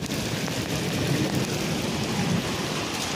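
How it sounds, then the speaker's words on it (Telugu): A heavy rainstorm in Dubai, with strong wind, pours down as a dense, constant roar of rain that stays loud and unbroken throughout. "వర్షం పడి అల్ల కల్లోలం అయిపోయింది."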